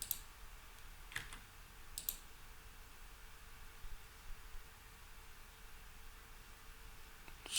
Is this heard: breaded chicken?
no